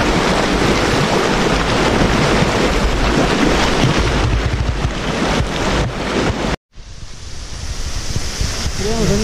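Rushing water from waterfalls along the Pita river near the Cueva del Oso, a loud continuous roar that fills the scene with wind buffeting the microphone, broken by a brief cut before the steady torrent resumes.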